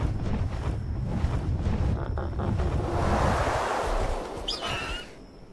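Flowing water in ARK Survival Evolved on the Ragnarok map rushes as a broad, steady wash with a windy, surf-like texture, loud throughout and easing toward the end, with a brief thin whistle near the close.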